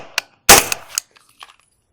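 A 9mm pistol-caliber carbine fires through a HUXWRX Flow 9K titanium suppressor, giving one sharp, loud muffled report with a short decaying tail, preceded by a faint click and followed by small metallic rattles.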